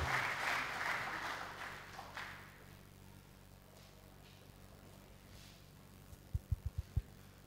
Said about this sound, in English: This is a round of applause for the anti-corruption czar of Nigeria